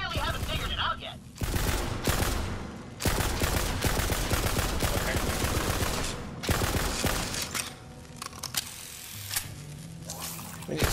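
Rapid bursts of gunfire from the video game Borderlands 3, dense and loud almost throughout with brief gaps, suggesting sustained shooting with mechanical clatter mixed in.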